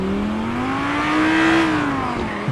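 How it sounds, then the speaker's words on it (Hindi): A V10 supercar engine revs in the GTA video game, its tone climbing to a peak and easing back down in one loud continuous sweep, with a brief tire-like chirp at the end. "बॉय V10 इंजन है इसके अंदर।"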